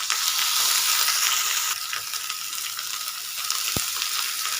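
Prawn paturi wrapped in pumpkin leaves frying in oil in a hot frying pan, a loud steady sizzle throughout with one brief sharp tap near the end, no talking.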